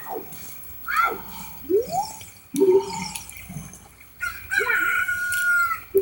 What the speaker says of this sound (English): Also, our egg hatched. We have a chicken now.